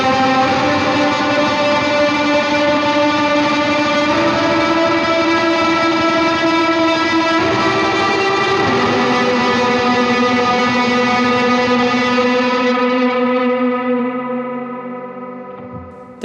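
A sustained electric guitar chord washes out through heavy delay and reverb, droning loudly for a long stretch before slowly fading away.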